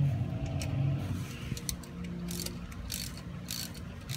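A hand ratchet snugs the bolts on an aluminum 12-bolt differential cover on a GM Chevelle, giving a run of light, close clicking pawl sounds over a low background hum, with no talking.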